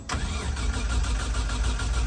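A Nissan Skyline R33 with an RB25 engine cranks and catches into a rough, rumbling idle, loud and close, with no talking.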